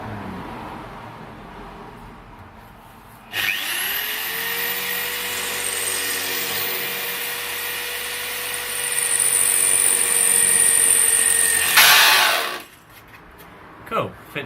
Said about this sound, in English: just enough to drill through the part of the metal that I want to drill through